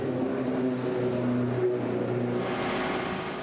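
Ford and Corvette GTE Pro race cars at the 2018 Le Mans 24 Hours roar past close together, a loud engine drone with rising revs that fades slightly at the end.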